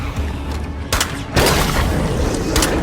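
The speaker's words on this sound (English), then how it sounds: "what you just saw in an explosion was a bloater, a blood plague bloater that explodes pretty far." A blood plague bloater explodes in the video game State of Decay 2, a sudden booming burst followed by a sustained rumbling blast over ongoing game sounds.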